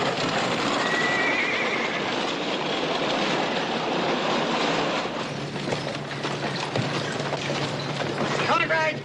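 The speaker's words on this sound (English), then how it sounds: "These old horses have been spooked all day." A spooked old horse whinnies loudly amid a rumbling, clattering Western scene with wagon or train-like mechanical noise, a shrill neigh rising early and another near the end, while people talk.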